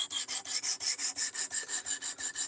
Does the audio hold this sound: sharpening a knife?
yes